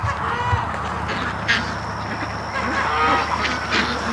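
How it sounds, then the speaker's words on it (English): Ducks returning to the yard from a swamp give repeated honking quacks at moderate distance, a loose chorus of calls over outdoor ambience with no talking. "The ducks are just coming back from the swamp."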